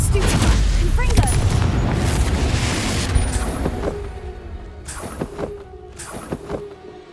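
A Confringo blast spell exploding in Hogwarts Legacy, a loud booming burst at the start that rumbles and decays over several seconds, with further scattered impacts and crackles following as the blast fades.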